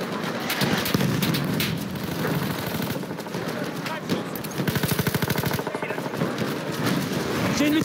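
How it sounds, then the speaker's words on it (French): Machine gun fire in a Battlefield 1 frontline battle, rapid bursts of repeated shots layered with other distant gunfire and chaotic combat noise, moderately loud. "Une mitrailleuse en visuel."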